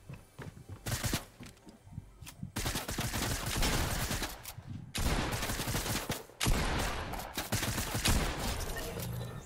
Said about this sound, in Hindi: चलो शॉटगन से उड़ा दिया